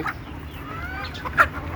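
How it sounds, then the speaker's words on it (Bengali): A domestic chicken gives a few soft clucks close by, with one sharper cluck standing out near the end over a low background hum. "দেশি মুরগি সহজেই ঘরের আশেপাশে থাকে"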